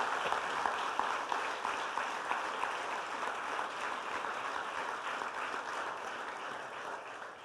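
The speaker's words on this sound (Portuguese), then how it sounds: "Então aplaude e glorifique o Senhor." A church congregation applauds during a service led by Pastor Joãozinho, giving a moderately faint, steady wash of clapping that holds evenly throughout.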